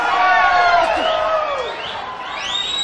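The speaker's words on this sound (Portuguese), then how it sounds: "Eu quero ouvir o grito dos cornos." A live forró concert crowd shouts and whoops in rising, sliding cries that overlap one another, loud and close, with the yelling swelling again toward the end.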